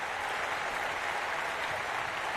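A stadium crowd at the Paris 2024 para athletics applauds an athlete with steady, dense clapping and a broad wash of cheering that holds evenly throughout, with no clear voices on top.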